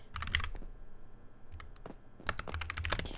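Quick mouse clicks come in two tight bursts separated by a near-silent gap, crisp and close-miked, with no voices.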